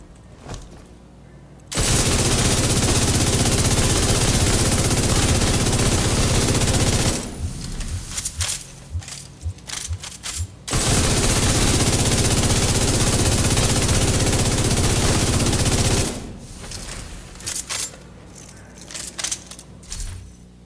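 Incendiary rounds from a weapon in The Division 2 spit out in two long sustained bursts of rapid automatic fire, loud and dense, each followed by scattered crackling hits and clatter.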